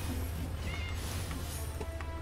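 The Meow Mirror item in the video game Dungeon Defenders 2 produces a brief cat meow, which sits faintly inside a dense, constant wash of game noise and low rumble.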